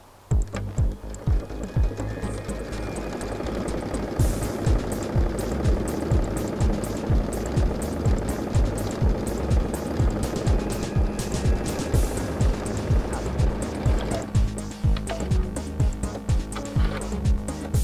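A Brother Luminaire sewing machine stitches with a rapid, steady mechanical clatter. The sound is fairly loud and close, runs almost nonstop and shifts in tone near the end, with no talking.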